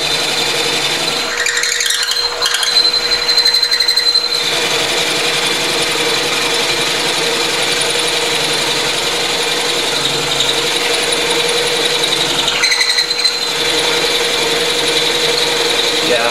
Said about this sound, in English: this side I'm having to put considerable amount more pressure to get it to drill because it's solid